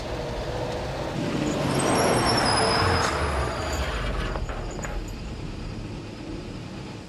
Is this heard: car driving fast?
yes